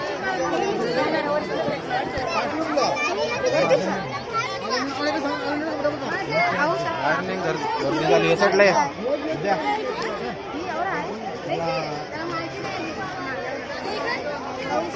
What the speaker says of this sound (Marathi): आता किती गर्दी आहे.